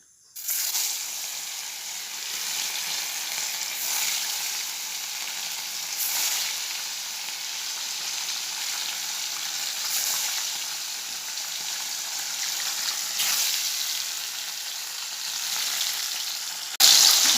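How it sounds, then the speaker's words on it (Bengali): Steady sizzling of river fish frying in hot oil, a continuous crackle with gentle swells, close by and with no talking. "দু তিনটা ভাজা খাবো তেল বসিয়ে দিয়েছি"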